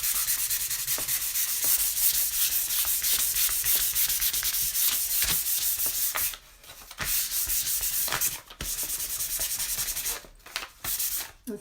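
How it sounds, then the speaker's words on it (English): Painted wood is rubbed and sanded firmly with the grain by hand, a close, steady scratchy rasp in repeated strokes, with a few brief pauses between passes. "And I'm going with the grain. And just really rubbing it."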